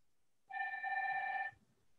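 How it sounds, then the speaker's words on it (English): A phone rings once during an online board meeting, a single steady electronic tone lasting about a second, moderately loud and alone over faint background noise. "Somebody's phone is ringing."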